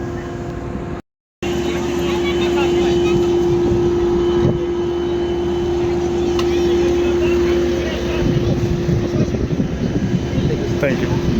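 A US-Bangla airplane sits at Cox's Bazar airport during boarding, giving a loud, steady engine drone with a constant hum. The drone cuts out briefly near the start, then continues while voices talk over it.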